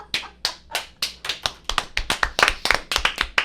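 Steady applause from many hands at a college football event, a run of sharp, crisp claps in an uneven rhythm that grows denser and louder toward the end, with no voices over it.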